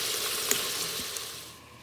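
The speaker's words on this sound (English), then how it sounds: "Sautéing my beef on sauté mode on the Instant Pot." Beef sizzling in an Instant Pot on sauté mode, a steady soft hiss with one or two faint clicks that fades slightly toward the end, no voices.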